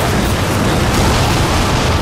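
A broadband explosion detonates in Darksiders 2, a loud sustained roaring blast that fills the whole moment with dense rumble and no voices.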